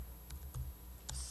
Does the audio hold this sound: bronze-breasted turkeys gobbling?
no